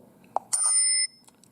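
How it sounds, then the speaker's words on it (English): BlackBerry Priv bike bell notification tone, a single short click followed by one bright bicycle-bell ring that sustains briefly then cuts off, played clearly and close. "Notifier Bike Bell."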